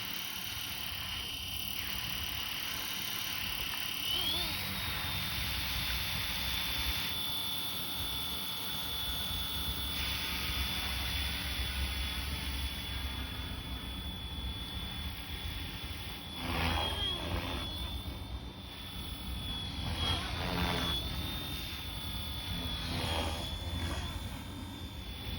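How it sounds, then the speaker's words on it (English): A Flywing FW450L RC helicopter spinning up in Acro mode, its rotor head whine rising in pitch and holding steady with some fluctuations, loud and close throughout. "Once you switch to Acro, you're going to hear the head speed crank up"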